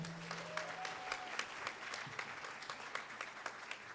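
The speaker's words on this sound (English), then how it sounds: "One more round of applause for Alan Durning and Sightline." Conference audience at a housing event gives a quiet, steady round of applause, individual claps distinct within the wash, with a brief tonal whistle early on.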